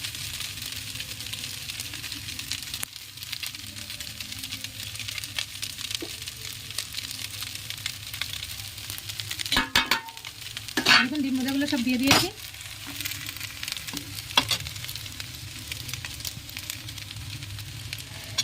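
Steady sizzling of egg chowmin noodles frying in a pan with scraping stirring strokes, busier and louder around the middle, with no talking.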